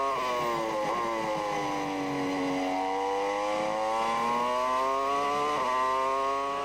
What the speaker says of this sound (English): Ferrari engine sounding perfect at the moment